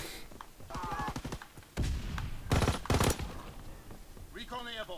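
Gunfire in Call of Duty WW2, with bursts of rapid shots and heavy booming blasts at moderate loudness, mixed with other game sounds and a player's voice.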